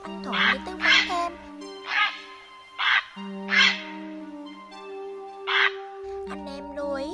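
A recording of a grey heron call repeats at intervals as harsh, croaking squawks, loud and close, over a low steady electronic hum.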